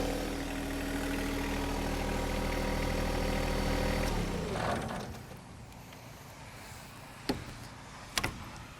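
A John Deere 1025R compact tractor with a 260B backhoe idles with a steady low engine drone, then shuts off after about four seconds, leaving quiet with a few sharp clicks and knocks.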